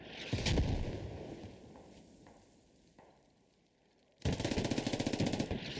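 A machine gun fires rapid bursts in the squad shooter game Squad, during a competitive match. A loud opening burst fades through a quieter stretch with faint single shots, then a sustained close burst returns, with no speech.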